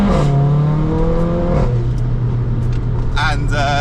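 A Mercedes A45 fitted with a stage 3 hybrid turbo revs, its engine note falling and settling into a steady droning tone close by, with a voice briefly heard near the end.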